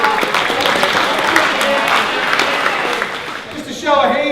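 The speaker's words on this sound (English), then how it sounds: "perhaps a round of applause for the people that" Applause at a club's 125-year celebration dinner: steady clapping from a roomful of diners fills the whole stretch at moderate loudness, with a voice speaking briefly near the end.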